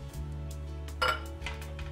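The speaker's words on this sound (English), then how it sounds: "We'll put that in a nice bowl, ready to serve up with our roast beef." Gravy for roast beef is transferred into a serving bowl with a few soft clinks of a utensil against crockery, the loudest knock near the middle, over a steady low kitchen hum.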